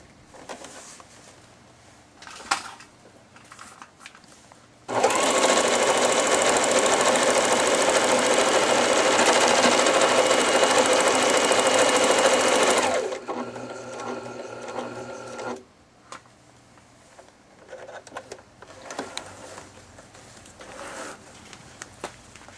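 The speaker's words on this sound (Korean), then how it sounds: "보시다시피 아주 빠른 속도로 이같이 깔끔한 단축 구멍을 만들어 낼 수가 있습니다." An Elna 3210/3230 sewing machine stitches a buttonhole at high speed, a loud, steady mechanical whir lasting about eight seconds before stopping, followed by quieter handling sounds.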